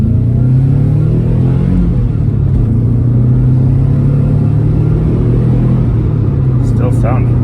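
A Subaru Forester fitted with a Stromung catback exhaust revs steadily, a loud low engine drone rising and falling slightly throughout.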